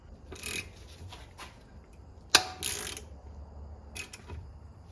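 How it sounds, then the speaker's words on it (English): Hand-operated puller worked on a Getrag 260 gearbox case, giving a few scattered scraping and ratcheting bursts with one sharp metallic clack near the middle, close by, with no talk. "at this point you can go ahead and attach a puller"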